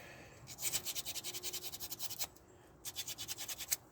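Sandpaper rubbed by hand in quick, even back-and-forth strokes, close and fairly loud, in two runs separated by a brief pause.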